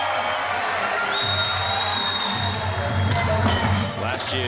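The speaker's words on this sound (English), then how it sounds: "Listen to the crowd." Crowd noise fills an indoor Street League skateboarding contest arena in Kansas City during a qualifying heat, a steady roar of voices with rising cheers and whoops, loud and continuous throughout.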